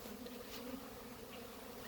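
Honey bees buzz at the hive as they bring in nectar and pollen, a dense steady hum of many insects at close range with no voices.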